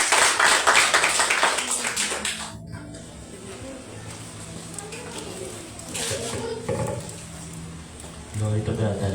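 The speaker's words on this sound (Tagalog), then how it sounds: "Palakpak po sa Panginoon" A church congregation at a Sunday service claps briefly and loudly for about two seconds, then fades into softer room noise with talking, children's voices and scattered taps.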